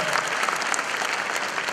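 A concert audience claps during a singing duet. The applause is brief, full and fairly loud, with crowd noise mixed in and a trace of voice.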